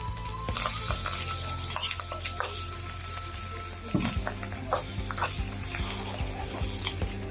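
Onions sizzle and fry in a pan with salt, a close, constant crackling hiss with scraping stir sounds and clatters throughout.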